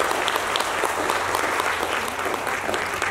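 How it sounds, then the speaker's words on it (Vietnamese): An audience at a leadership training seminar bursts into dense, sustained applause, many hands clapping steadily and evenly for about three seconds with no break. "cho em một tràng vỗ tay"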